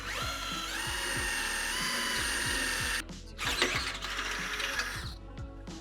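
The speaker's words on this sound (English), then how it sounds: "I'm just using a 1/2-inch drill bit to allow room for our carriage bolt" A power drill with a 1/2-inch bit bores through a Chevy Colorado truck cross member, giving a steady high whine with rhythmic clicking, then turning rough and grinding as the bit bites through the metal.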